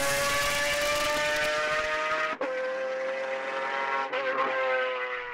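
Pagani Zonda R, a track-only Zonda, howls at high revs with a dense, loud engine note, briefly dropping twice as the driver shifts gears before the roar climbs again.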